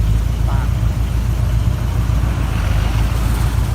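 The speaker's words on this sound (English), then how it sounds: "You can actually hear the fan in the front of this motor." A 1983 Chevy Silverado pickup idles with its new exhaust after the old headers were removed, a steady, loud, close low rumble holding evenly throughout with no talk.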